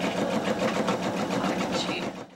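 Sewing machine stitching squares of used t-shirts into a quilt, a steady continuous motor whir with fast needle rhythm running close and alone, easing off at the very end.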